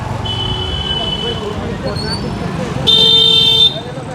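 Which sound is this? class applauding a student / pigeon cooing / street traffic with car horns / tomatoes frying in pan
street traffic with car horns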